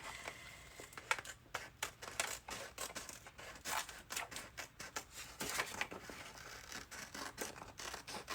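Scissors trimming paper for a journal, producing a quiet series of close snipping and crisp cutting strokes in an irregular rhythm, faint and alone without talk.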